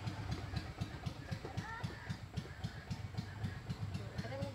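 Motorcycles pass along a road, their engines chugging in a steady, rapid low throb that stays fairly close, with voices faintly in the background.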